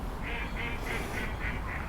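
A swan calls in a park, a run of about six evenly spaced nasal honks under a steady outdoor background hiss.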